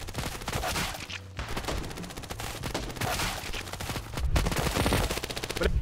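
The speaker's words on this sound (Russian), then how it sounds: "Тип с P90 стреляет" P90 submachine gun fire in the mobile shooter Standoff 2, dense rapid bursts of automatic shots rattling almost continuously, loud and close, with a brief lull before heavier firing resumes.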